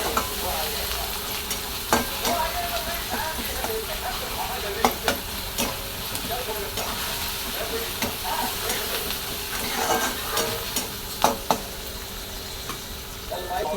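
Onion and tomato stirred and frying in a pan, a continuous sizzle broken by repeated sharp scrapes and taps of the spoon against the pan, steady and close with no talking.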